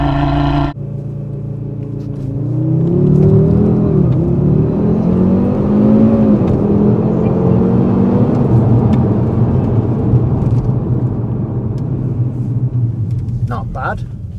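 A 2020 Audi RS3 engine roars and revs up hard through rising gear pitches during a 0 to 60 mph run, building speed over a steady rumble, loud and close from inside the cabin.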